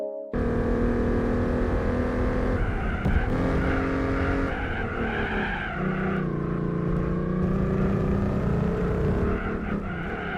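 VW Bora racing in Gran Turismo 4, its engine droning loud and steady with rising and falling revs and gear changes, plus tire squeal throughout.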